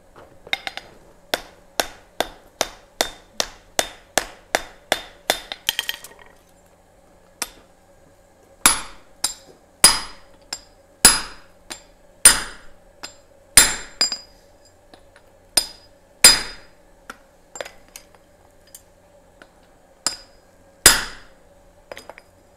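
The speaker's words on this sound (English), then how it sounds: "Let me take this heat real quick to weld on this a little bit" Hammer blows ring on hot wrought iron being forge welded on an anvil. A rapid run of about a dozen evenly spaced strikes comes first, then after a short pause slower, louder, widely spaced blows with a ringing metallic clink.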